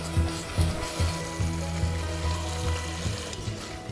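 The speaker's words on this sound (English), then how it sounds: "Leave it to simmer before we add the udon." Coconut gravy with cherry tomatoes simmering in a pan before udon goes in, a close continuous bubbling sizzle with a regular pattern of soft low pops throughout.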